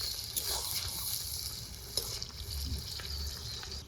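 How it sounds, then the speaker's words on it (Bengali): Mutton sizzles in hot spiced oil while being stirred, a close, bright frying hiss with scraping stir strokes and small pops, steady and moderately loud. "এখন তো তেলের উপর নেড়ে চেড়ে ভাজা ভাজা করে নিই"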